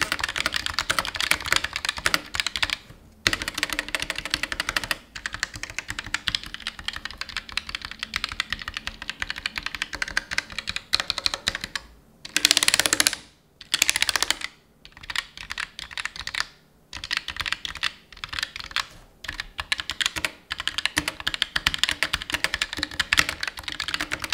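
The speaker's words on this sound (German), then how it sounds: "wir machen mal einen kleinen Soundtest." Rapid clicky keystrokes on a Roccat Vulcan 2 Mini Air wireless mechanical keyboard, continuous typing with a few brief pauses, close and crisp with no talking.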